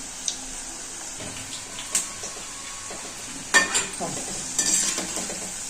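Cabbage pakodas crackle steadily in hot oil, a continuous bright sizzle with a few sharp clinks and scrapes of a utensil against the pan.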